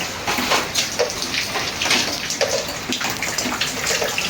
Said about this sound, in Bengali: এখন আমরা পিঠা ভাজবো